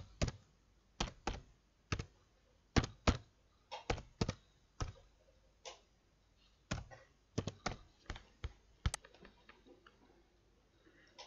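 Password being typed on a computer keyboard, a run of sharp, separate key clicks in irregular bursts with short pauses, close and fairly quiet, no voices.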